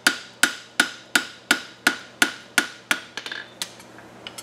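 A hammer strikes a steel horseshoe on the anvil horn to shape a bevel, nine sharp ringing blows in a steady even rhythm, followed by quicker, lighter taps, close and loud.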